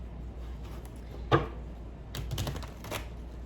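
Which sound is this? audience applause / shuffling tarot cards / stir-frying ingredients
shuffling tarot cards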